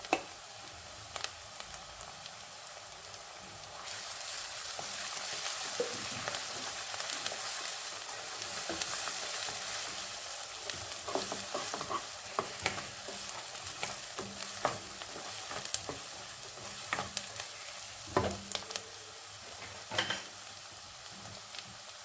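Ginger garlic paste frying in a pan for pav bhaji, a soft steady sizzle with intermittent spatula scrapes and taps, close and fairly quiet, no talking.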